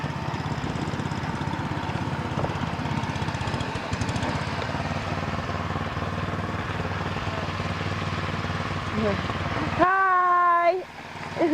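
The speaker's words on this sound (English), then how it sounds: "Got a snow blower." A snow blower runs during a snowstorm, a steady rough engine drone close by that holds for several seconds, then cuts out as a voice breaks in near the end.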